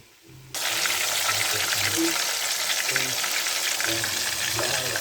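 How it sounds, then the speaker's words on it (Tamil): Loud, steady sizzling of tomatoes frying in hot oil starts abruptly and continues without a break, close to the pan. "தக்காளி பழத்தை வச்சுக்க லைட்டாக பொரிச்சிக்கலாம்"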